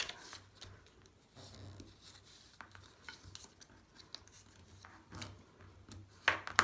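Card craft pieces from a kit being folded and creased by hand, a faint papery rustle with light scraping taps, quiet and close, ending in a couple of sharper crisp clicks.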